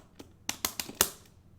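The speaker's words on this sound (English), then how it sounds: "to execute a bread and butter combo with Ken to a super, it sounds like this" Arcade stick button and lever clicks while Ken performs a bread-and-butter combo into a super in Street Fighter 3, a quick burst of about five sharp plastic taps, close and fairly quiet.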